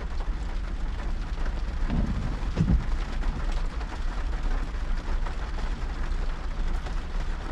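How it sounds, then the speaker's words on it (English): Steady rain falls outside, a dense continuous hiss with a couple of brief low thumps, heard alone at moderate level. "it's a rainy Friday, man."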